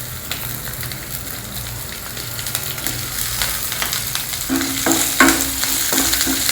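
Green chillies and ginger crackle in hot oil alongside urad dal for traditional buttermilk dosa, a steady close sizzle with scraping stirs and a louder burst of spatter near the end.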